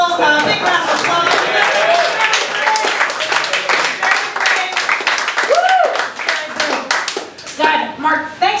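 A comedy roast audience claps loudly in a dense, sustained burst, with voices and scattered cheers over the top.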